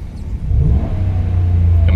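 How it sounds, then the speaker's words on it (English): A Ram 1500 Hemi truck revs briefly with its exhaust cutout closed, a muffled, subdued rumble of intake and stock exhaust, the tone rising then holding steady at moderate volume. "So you just hear the intake sound and the stock exhaust."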